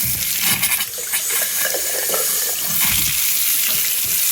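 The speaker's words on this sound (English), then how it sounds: "You want to turn it on gradually, very slow, and release the air in the lines." A newly installed Moen Essie faucet runs steadily into a sink, its broadband rushing water punctuated by sputtering bursts as trapped air clears from the supply lines, close and loud with no talk.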